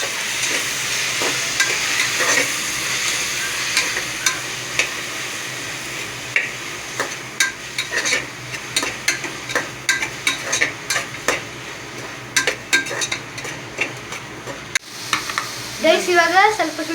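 Tomatoes sizzle and fry in a pan for egg curry while a utensil stirs them in repeated scraping strokes, a steady hiss with a voice talking briefly over it.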